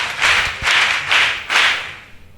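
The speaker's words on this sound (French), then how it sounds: "on acclame pour le Seigneur." A church congregation clapping for the Lord, four broad bursts of clapping in a steady rhythm, close and fairly loud, fading at the end.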